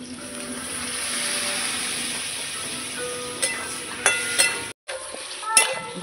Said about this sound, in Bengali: মশলা দিয়ে ভালো করে তরকারিটা কষিয়ে নিয়েছি।